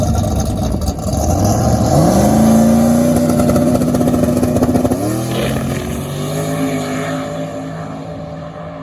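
Big block leaf spring Camaro making a drag racing pass, a loud engine climbing steadily in pitch through the gears with a sharp shift near the middle, roaring alone with no talk.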